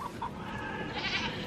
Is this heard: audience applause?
no